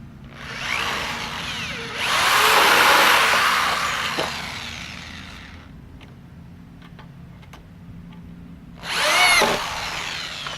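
A power drill whirs in two bursts, driving screws into the wooden corners of a raised garden bed, with a few faint clicks and taps in the quieter stretch between.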